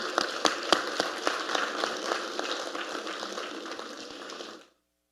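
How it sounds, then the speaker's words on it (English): An audience applauds the Governor General at a panel discussion, a dense, even round of clapping with a few sharper claps standing out, fading out abruptly near the end. "Applause for the Governor General, please."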